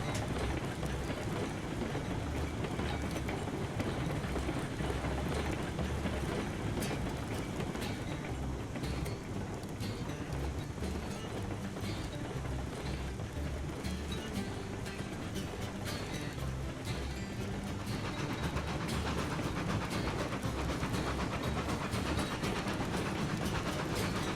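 A freight train in a video game rumbles steadily along the tracks, a continuous heavy roar with faint clattering throughout and no voices.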